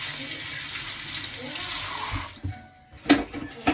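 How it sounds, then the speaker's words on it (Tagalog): Tap water runs steadily over tomatoes being washed at a kitchen sink for sinigang na bangus, a continuous close splashing for about two seconds that then stops, followed by a few soft knocks and handling sounds. "Hugasan ko lang po yung ating kamatis."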